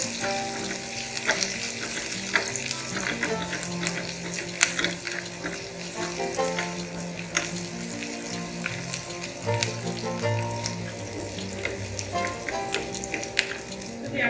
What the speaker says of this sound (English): Now, in goes the thinly sliced onion. We'll cook the onions until they are lightly brown.